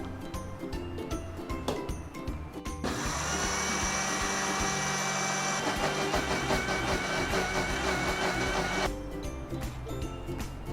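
A mixer grinder grinds rice with water for appam batter. Its motor whirs loudly and steadily for about six seconds, then cuts off, with handling knocks and clatter before and after.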